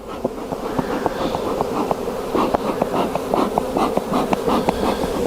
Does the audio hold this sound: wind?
no